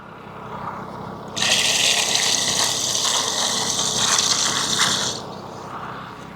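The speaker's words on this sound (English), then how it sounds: "I am going to add some normal water into it." A steady stream of room-temperature water pours from a vessel into a big pot of hot water, a loud continuous rushing gush lasting about four seconds, heard close and without talk.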